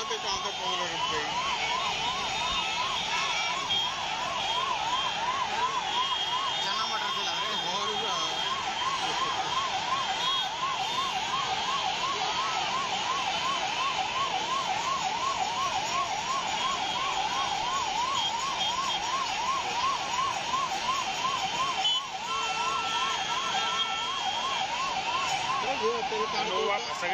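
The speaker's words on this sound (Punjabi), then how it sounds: "ਦੋ ਐਂਬੂਲੈਂਸ ਫਸ ਗਈਆਂ ਹੈ ਨਾ" Two ambulances stuck in a Holi crowd in Mathura sound a continuous wailing siren that rises and falls rapidly and steadily throughout, moderately loud amid a dense crowd murmur with people talking.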